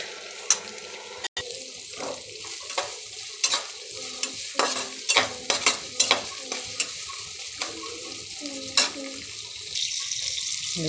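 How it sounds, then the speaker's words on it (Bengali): Food fries in hot oil in a pan, a soft sizzle under repeated clattering stirs and scrapes of a utensil, close and irregular. "এতেও তেল দিয়েছি, এখন ভেজে নিব"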